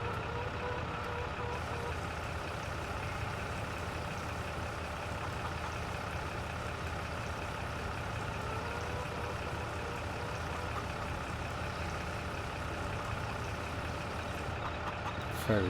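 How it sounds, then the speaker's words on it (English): A tractor engine idles steadily in Farming Simulator 22 while it is being refuelled, a continuous low rumble holding at an even level throughout with no other notable sounds. "Since we're here, we refill the tractor."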